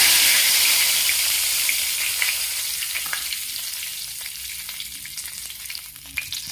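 A bay leaf goes into hot oil already seasoned with asafoetida, setting off a loud, close, hissing sizzle that gradually settles into a softer crackle with scattered pops.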